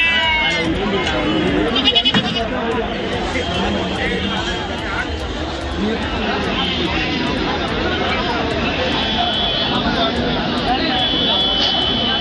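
Goats bleat amid the dense crowd noise of a busy livestock market at dawn in Tirumangalam, Madurai district, their cries mixed into a constant loud hubbub of many people talking.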